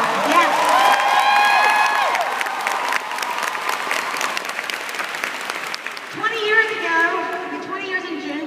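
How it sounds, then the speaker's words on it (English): An audience bursts into loud applause with cheering and whoops, the clapping sustained throughout while voices call out and shout over it. "So will you please give my unit and my area a round of applause?"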